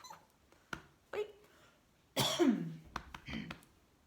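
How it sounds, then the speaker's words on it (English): A single cough bursts out mid-clip, loud and close, surrounded by quiet breaths, throat noises and a couple of short vocal sounds. "Just cough."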